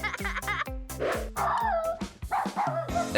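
A cartoon dog yaps in quick, repeated barks mixed with whiny whimpers, close and lively, with bits of voices and laughter woven in between.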